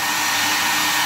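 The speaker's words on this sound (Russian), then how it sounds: "Сейчас возьму фен." Hair dryer running steadily on hot, a loud continuous airy roar blowing over snow that refuses to melt, close up with no talk.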